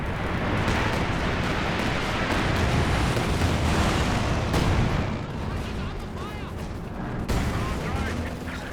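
A rocket run artillery strike in Company of Heroes 2, a dense barrage of rumbling explosions and rapid gunfire that swells loudly, eases slightly midway, then punches again with a sharp late blast.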